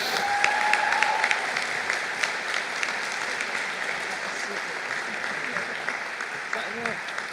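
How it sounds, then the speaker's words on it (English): Audience at a 2016 Seneca High School senior pinning ceremony applauding the keynote speaker, dense, sustained clapping that is loudest at the start and eases slightly, with scattered voices murmuring underneath. "please give a warm round of applause to our keynote speaker tonight, Ms. Nancy Stapleford."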